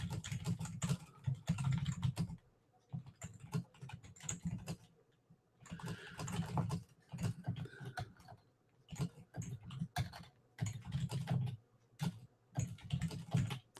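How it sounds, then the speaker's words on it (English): Someone types on a computer keyboard in steady bursts of fast clicks separated by short pauses, close and fairly loud. "I'm typing if you can hear that."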